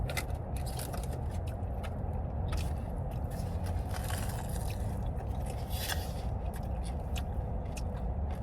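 Biting and chewing into an empanada dipped in vinegar, with soft crunchy scrapes and bites close up, set against a steady low rumble inside a moving car.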